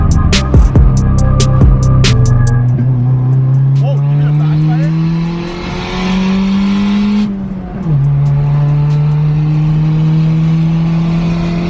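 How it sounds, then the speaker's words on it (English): Car engine revving hard while driving fast, loud and close, rising in pitch through long pulls with a gear change dip midway; people talk at the start. "I've never ripped it that fast in this car."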